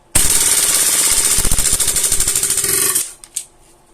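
An airsoft gas blowback rifle on a MaxTact green gas magazine, dry-firing its remaining gas as a loud, rapid mechanical rattle for about three seconds, then a short hiss and a click.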